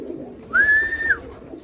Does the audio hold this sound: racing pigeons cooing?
yes